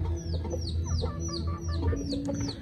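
Pure-breed Darag hens cluck in a group at close range, giving repeated short, rising calls in an uneven rhythm over a low background hum.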